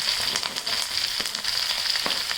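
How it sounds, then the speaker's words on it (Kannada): Cloves and green chillies fry in hot oil for goat leg soup, a steady, close sizzle with scattered small crackles and pops throughout. "ಲವಂಗ ಸಿಡಿಯುತ್ತೆ, ಅದು ಸಿಡಿಬೇಕು ಕೂಡ"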